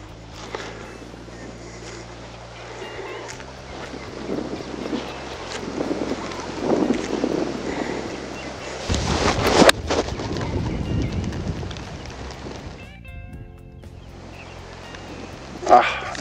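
Headwind on a golf course rushes and buffets the microphone steadily, swelling in gusts, while a person talks over it at times.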